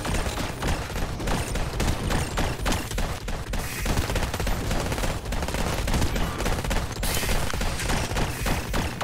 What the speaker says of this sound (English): I'm just gonna shoot all the